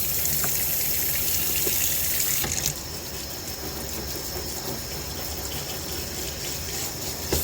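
Water gushes steadily through an orchid pot during a flush, a constant close rushing and trickling that shifts slightly in tone partway through, with no talking.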